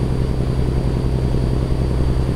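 Steady low truck engine drone from American Truck Simulator, a continuous loud rumble with a constant throbbing beat, heard alone without talk.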